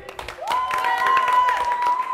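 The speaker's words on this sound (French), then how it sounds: "Allez, on peut les applaudir." Audience clapping at a science demonstration on the flavour of egg white: a scattered round of claps, partly masked by a steady high whistling tone that holds through most of the clip.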